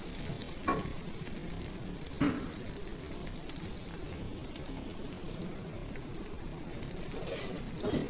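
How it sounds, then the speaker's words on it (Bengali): Spices sizzling in hot oil while a prawn curry is prepared, with turmeric, chilli, coriander and salt added after fried onion, ginger and garlic paste; a steady low crackle continues throughout, with a few brief stirring knocks. "মশলা ভাজা ভাজা হয়ে গেছে"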